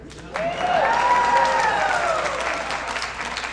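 An audience at a New England brass ensemble concert applauds loudly, steady dense clapping that swells quickly and holds, mixed with a sustained tonal note and a sliding whistle-like sound over the crowd.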